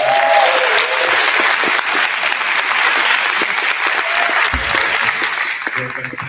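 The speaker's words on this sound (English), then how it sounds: "round of applause" A room full of people at a university sustainable buildings showcase night claps loudly and continuously, steady applause that starts to thin out near the end.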